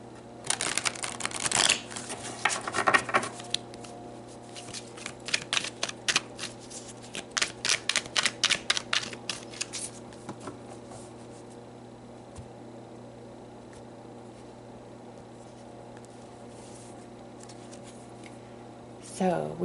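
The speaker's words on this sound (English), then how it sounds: "So let's pull some more cards." Oracle cards are shuffled and pulled in quick bursts of crisp flicking and riffling, close and clear, with softer card handling later over a faint steady hum.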